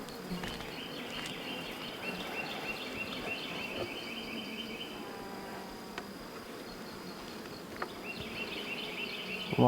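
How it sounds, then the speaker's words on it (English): Honey bees swarm thickly over the inner cover of an open hive, giving a dense, steady buzz that holds close and even throughout, with a few brief knocks and scrapes. "A lot of bees on the inner cover"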